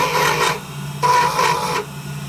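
A hand chisel shaves a handmade wooden wand handle in two rasping strokes, each about half a second or longer, close up and alone with a short pause between them.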